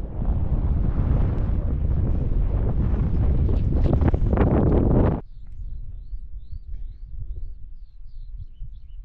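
Strong wind buffeting the microphone during a hike across the snowy Massif Central, a loud roaring rush that suddenly drops to a softer steady blow, with faint birdsong in the quieter part.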